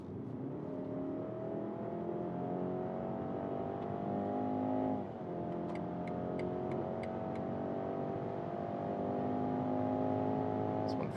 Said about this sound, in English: And now we can accelerate out.